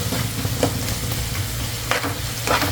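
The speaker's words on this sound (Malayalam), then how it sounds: "ഇനി നന്നായിട്ടൊന്ന് ഫ്രൈ ആവട്ടെ സവാളയൊക്കെ നന്നായിട്ട് ഫ്രൈ ആയിട്ടുണ്ട്" Sliced onions frying in a pan with a little salt and sugar, a continuous close sizzle broken by a few sharp stirring scrapes and clinks, with no talking.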